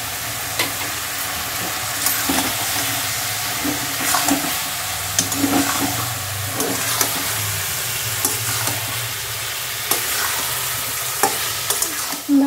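Bombay duck fish frying with pumpkin greens in a pan, a steady close sizzle with occasional stirring scrapes and clinks throughout, no talking.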